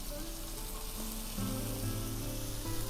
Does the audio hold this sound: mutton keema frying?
yes